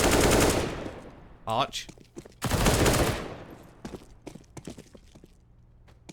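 Gunfire crackles in a Counter-Strike match on the Mirage map, with bursts of rapid shots and scattered single cracks and footstep-like taps. A commentator speaks over the action.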